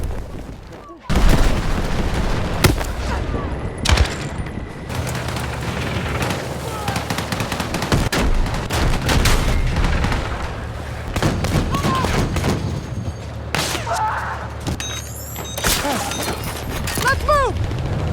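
Battlefield 6 beta gameplay fills the scene with rapid gunfire bursts, heavy explosions and shattering debris, loud and nearly continuous. Players' voices talk over the combat.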